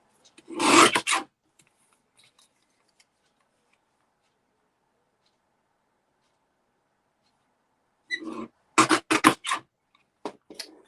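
Card paper is trimmed for a handmade card, with a short rasping cut, a long quiet pause, then a burst of several close, sharp scraping strokes.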